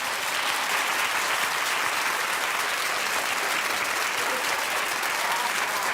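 Loud, steady applause from a large audience, continuous clapping filling the whole stretch without a break.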